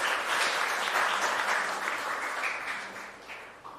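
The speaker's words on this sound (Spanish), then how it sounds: "un caluroso aplauso" A congregation at a church mass in the Capilla Virgen de las Mercedes in Luque applauds warmly, and the steady, dense clapping of a crowd slowly fades over a few seconds.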